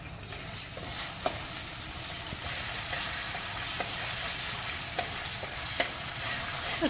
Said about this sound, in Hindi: इसके अंदर सबसे पहले हम लहसुन अदरक का पेस्ट डाल देंगे, इसकी अच्छे तरीके से भुनाई कर लेंगे।